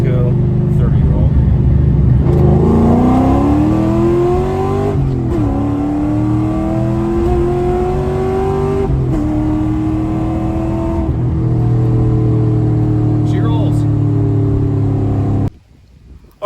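A Vortex-supercharged 2-valve Ford Mustang accelerates hard from a 30 mph roll, its engine and supercharger whine climbing steadily in pitch through several gear changes, loud from inside the car before cutting off abruptly.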